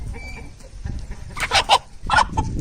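A fighting rooster suffering from leg weakness gives a few short, near clucks in quick succession, sounding over quiet farmyard background.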